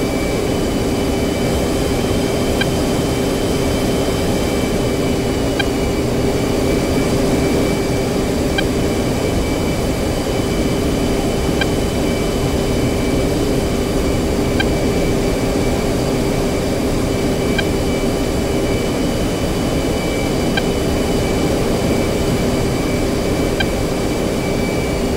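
An F-15C's jet engines in the DCS World flight sim roar loud and steady through take-off, with a constant whine and a heavy low rumble that stay unbroken the whole way and no talk over them.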